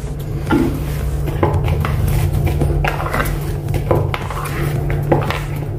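Jowar (sorghum) puri dough being kneaded in a bowl with a little oil, with repeated dull knocks and scraping clatter against the bowl and a steady low hum underneath.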